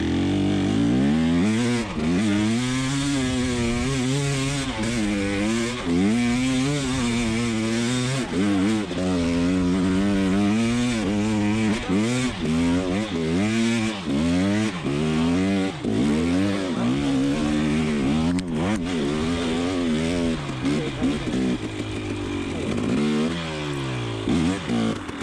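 A KTM dirt bike engine revving and working up a hill in first and second gear, loud and close, with repeated rising and falling pitch as the throttle is opened and eased.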